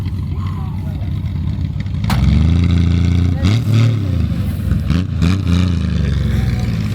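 A prestige convertible's engine turns over and fires up, then revs in several rising, throaty bursts close by, with voices speaking over it.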